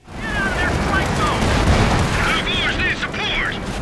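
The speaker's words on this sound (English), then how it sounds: "We're taking heavy fire from the top of the hill!" Dense battlefield gunfire and explosions in Company of Heroes 2's Ardennes Assault campaign, a continuous loud roar of shots and blasts with shouted voices over it.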